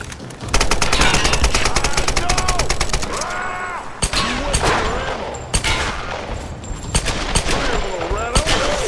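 Rapid machine-gun bursts and scattered gunshots from Tomb Raider, a dense rattling volley at first, then breaking into choppier bursts, loud and close with some shouting mixed in.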